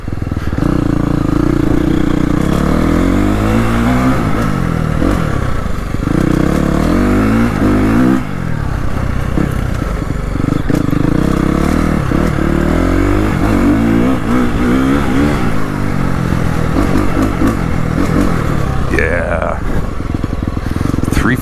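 A 2025 KTM 350XCF Factory Edition dirt bike ridden in cold 20°F weather, the engine revving up and down loud and close with rattles and scrapes, and someone talking over it.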